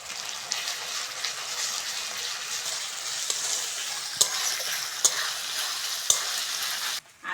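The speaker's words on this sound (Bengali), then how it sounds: "এবার আদা রসুন বাটাটা দিয়ে দেবো।" Ginger garlic paste sizzles steadily in a hot pan with previously fried onion and green chilli, a close, continuous frying hiss broken by a few sharp clinks of stirring.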